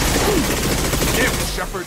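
Shotgun fire during a Mass Effect 2 firefight, dense overlapping gunshots and bursts rolling on loudly and continuously, with voices calling out through the battle noise.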